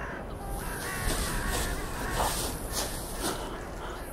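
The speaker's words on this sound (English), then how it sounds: "Carrion crow." Carrion crows caw repeatedly in harsh, rhythmic calls over a dense, noisy background, several calls overlapping at moderate distance for the whole stretch.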